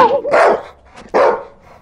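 A man mimics a big dog barking with two loud, gruff woofs spaced about a second apart, close up.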